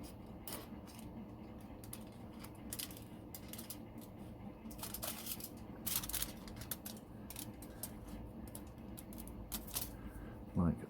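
Small clicks and snips of a blade or cutters working a plastic part from an AMT 1/25 scale 1940 Ford model kit, scattered irregular ticks close to the mic, faint over a low room hum.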